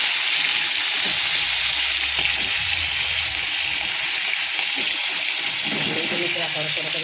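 Fish pieces frying crisp in hot oil, a loud continuous sizzle with watery crackle throughout, while a voice speaks low underneath for part of it.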